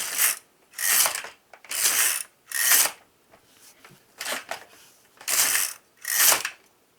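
A knitting machine carriage is pushed back and forth across the needle bed knitting rows, giving regular rasping, clattering sweeps about once a second with brief quiet gaps between passes.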